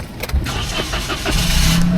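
A car engine starting, a cranking starter followed by the engine catching and settling into a loud, steady idle with a rising hum, close by.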